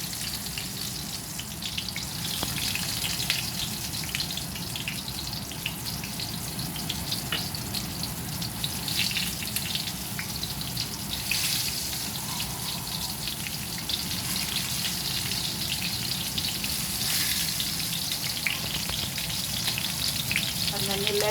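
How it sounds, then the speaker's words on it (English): Aubergine frying in hot oil in a pan, a steady close crackling sizzle that holds evenly throughout with faint stirring and bubbling. "The oil is now hot and I'm going to show you. So you just put the aubergine in it,"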